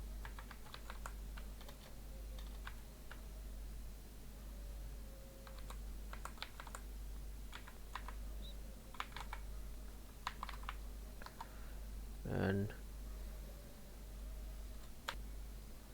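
Someone types a Windows login user ID and password on a computer keyboard: scattered bursts of soft key clicks with pauses between, faint and close over a low steady hum, and one louder thump near the end.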